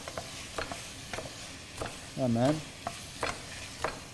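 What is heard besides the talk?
meat frying with onions in a pan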